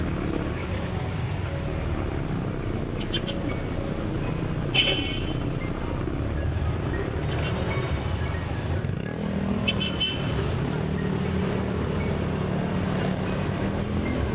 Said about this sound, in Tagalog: Daming motor, ano?